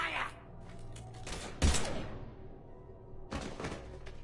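Gunfire in the video game Mass Effect 3 erupts in a few loud bursts after an order to shoot, with a sharp heavy impact near the middle and another cluster toward the end, over a low background rumble.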